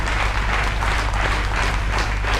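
Students and teachers at an inter-school quiz competition on a school raising day applaud, a full, continuous crowd clapping that swells slightly in waves and carries on without talk.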